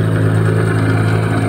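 A Gladiator 9.9/15 outboard boat motor runs steadily during break-in, giving a loud, close, even droning hum at a constant pitch with no other sounds.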